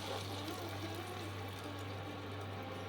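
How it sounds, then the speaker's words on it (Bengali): Water poured into a pot of Bengali vegetable stew, a soft continuous trickling hiss held at low level over a steady background hum, brief and unbroken. "এবার আমি জল দিয়ে দিচ্ছি পরিমাণ মতো"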